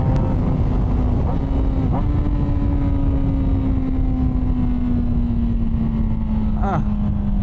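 A 2006 Yamaha R6 with its 600cc inline-four engine drones steadily and close, with a few quick rev blips as it downshifts, all over constant wind rush.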